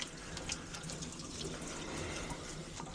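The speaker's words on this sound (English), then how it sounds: "it lets the water drain through" Soft, steady trickle of water draining away through a bathtub grate during a dog's bath, close by and continuous.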